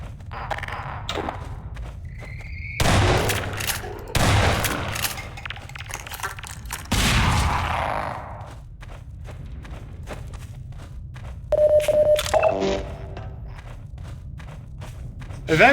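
Combat with grenade-lobbing zombines in Half-Life 2: Episode Two, with several loud bursts of gunfire and explosions breaking through steady thumping footsteps and game noise.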